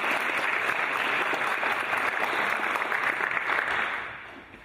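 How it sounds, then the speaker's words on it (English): Conference keynote audience applauding, a steady wash of clapping that holds for about four seconds and then tapers off at the end. "you can give yourselves a great round of applause"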